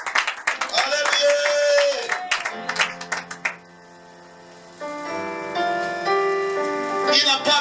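A church congregation claps rhythmically during worship, the sharp hand claps bunched in the first few seconds under a loud, sustained voice.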